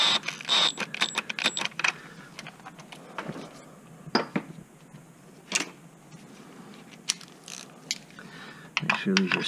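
A 10mm ratchet clicks in quick bursts while tightening bolts on a Honda Accord engine during a tune-up, with pauses and light metallic clinks between strokes, close and crisp.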